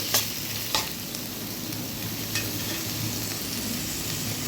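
Chopped tomatoes sizzle steadily in a hot pan, with a few scraping stirs of a utensil; close and continuous.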